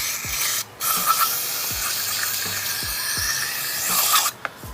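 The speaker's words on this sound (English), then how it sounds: "I probably sprayed it down about 5 times already now, and I'm going to do it once again" Cleaner sprayed repeatedly onto the EGR valve of a Mazdaspeed 3, a steady close hiss running nearly the whole time with brief pauses, over a series of faint low knocks.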